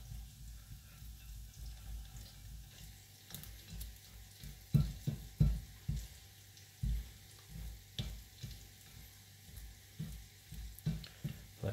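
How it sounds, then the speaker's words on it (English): Focaccia dough is scraped down from the edge of a mixing bowl, its wet and dry bits pushed together with a series of soft, irregular scuffs and thumps that are close and fairly quiet, with no talking. "I'll scrape down all of the wet and dry from the edge of the bowl into the dough"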